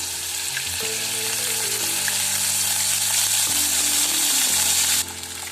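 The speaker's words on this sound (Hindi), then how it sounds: "अब हम इसमें आधा चम्मच घी डालेंगे। तेज पत्ता डाल दिए और सहजीरा डाल दिए। अदरक पेस्ट डालेंगे।" Ginger paste frying in ghee with bay leaf and cumin gives a steady, loud sizzle that runs without a break. Background music plays under it, and there is no talking.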